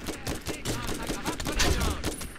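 Rapid bursts of gunfire from the Borderlands video game crackle continuously and loudly in a dense fusillade of overlapping shots.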